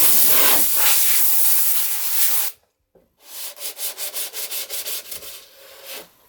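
Wooden block rubbing filler on a Maserati Biturbo 4.24v body: a loud continuous rasp for a couple of seconds, a brief pause, then a series of short rhythmic back-and-forth strokes, close and alone.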